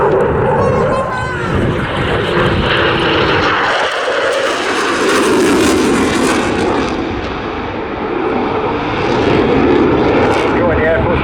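A Eurofighter Typhoon FGR4 fast jet roars through agile airshow manoeuvres at Southport, its loud engine thunder swelling and sweeping in pitch as it passes, with a commentator's voice over it.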